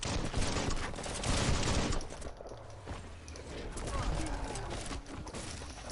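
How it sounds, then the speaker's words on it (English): Repeated firing from a shield gun in the action video game Biomutant, rapid rattling shots at moderate volume mixed with in-game effects and background music, with a voice briefly talking over it. "Yep, that's the shield gun."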